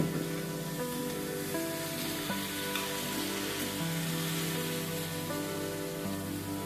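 Vegetables with two green chillies frying in a pan for vegetable dal, a continuous close sizzle with soft crackling and faint stirring, quiet and steady with no talk.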